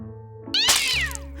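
A cartoon cat lets out a single loud, drawn-out meow with a rising and falling pitch, clear and close, with a soft musical bed underneath.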